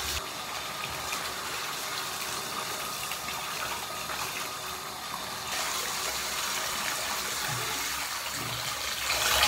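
Steady rushing water runs continuously, like a shower spray rinsing hair, growing slightly louder partway through with a few splashy bursts near the end.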